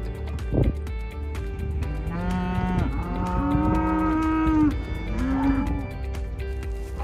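Cattle low with long, loud moos, several overlapping calls near the house and corrals over a low outdoor rumble.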